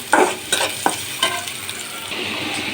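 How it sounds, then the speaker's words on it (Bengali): Chopped vegetables for a meatless bhaji, with onion, turmeric and green chilli, sizzle in a hot pan. Several sharp stirring scrapes at the start give way to a steady, close frying hiss. "এই যে ভাজি বসিয়ে দিলাম"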